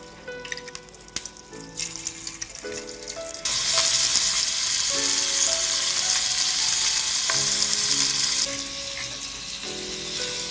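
Prawns sear in a hot pan with a steady, loud sizzle that swells sharply midway, laid over clinking and faint kitchen sounds, with no voice.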